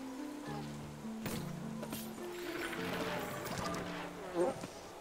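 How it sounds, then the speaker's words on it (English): Buzzing bees in the forest game The Wild at Heart, a steady faint hum layered with soft game music tones and rustling, with a brief louder burst near the end. "I can totally hear the bees"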